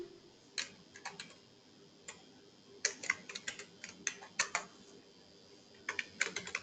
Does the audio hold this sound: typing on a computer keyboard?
yes